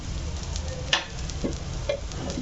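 An onion dosa fries on a hot pan with a constant close sizzle and crackle, punctuated by a few small taps and pops, no talking.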